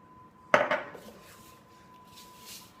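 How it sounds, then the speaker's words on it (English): Stirring a biscuit mixture with buttermilk: a burst of clattering utensil-on-bowl scraping and clinks, close and fairly loud, then fading to quiet room tone with a faint steady hum. "so let's just go ahead and stir it"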